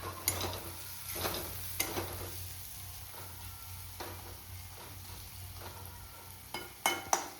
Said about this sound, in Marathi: आणि आता आपले हे मसाले फ्राय झालेले आहे तर आपण त्यात आता थोडासा कढीपत्ता घालणार आहोत